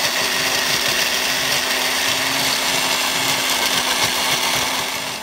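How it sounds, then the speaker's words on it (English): A blender grinds half a banana into a smoothie with a loud, steady whirring roar that runs unbroken for over five seconds, easing slightly at the end. "Now I'm gonna grind it up."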